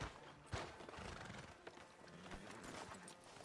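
Horse hooves clip-clop in Red Dead Redemption 2 beside a sheriff's office, blended with whinnying and small mechanical clicks, fairly faint and steady throughout.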